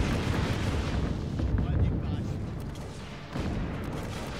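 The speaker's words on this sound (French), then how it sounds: "J'aime bien les explosions." Continuous explosions in the video game Just Cause 3, dense booming rumble that swells and fades over a few seconds, loud and up front with a player talking over it.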